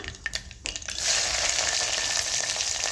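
Chopped onions drop into hot oil in a pan with curry leaves and bay leaf, bursting into a loud, steady sizzle after a few scattered crackles and clatters.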